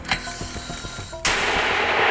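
A single heavy 120 mm mortar shot booms sharply and loud, its blast filling the air and rolling on after a quieter stretch of faint background noise.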